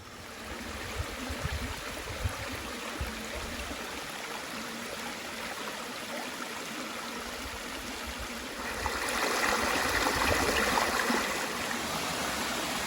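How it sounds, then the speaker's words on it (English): Eternal Flame waterfall in Letchworth Park, Upstate New York: steady broadband rush of falling water, constant throughout and growing a little louder and brighter in the last few seconds, with no talk. "On to our next waterfalls, Eternal"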